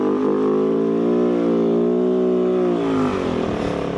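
A Kove 450 Rally adventure motorcycle revs on a trail, its loud, close engine note holding a steady buzzing pitch, rising slightly, then dropping away near the end.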